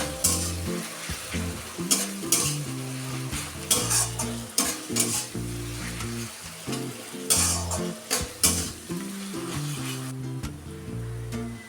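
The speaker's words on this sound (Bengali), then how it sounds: "আদা রসুনটা দেওয়ার পর এটাকে সামান্য কিছু সময় নিয়ে একটুখানি ভেজে নেব" Ginger garlic paste frying in a pan for a Bengali badshahi chicken dish, a steady close sizzle broken by repeated scraping stirs. Background music plays throughout.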